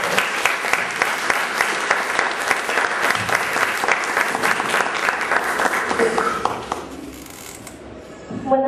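A crowd applauds a speaker, loud dense clapping that runs steadily for several seconds before thinning out and fading near the end.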